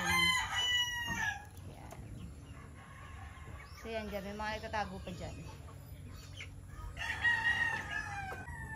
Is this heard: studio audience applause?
no